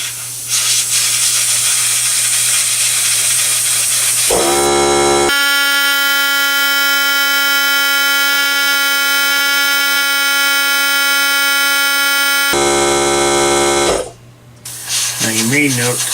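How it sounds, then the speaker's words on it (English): An air compressor motor kicks on in a workshop and runs steadily for about eight seconds with a loud, even hum full of tonal harmonics, then cuts off, with quieter background noise before and after. "whenever the compressor comes on, I stop"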